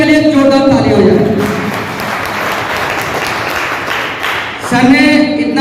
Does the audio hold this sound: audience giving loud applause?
yes